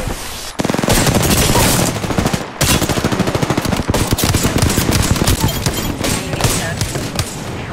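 Rapid automatic gunfire from an Apex Legends firefight, dense bursts of loud shots rattling almost continuously with a brief gap, a voice faintly underneath.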